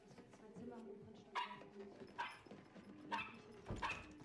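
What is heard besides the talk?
dog barking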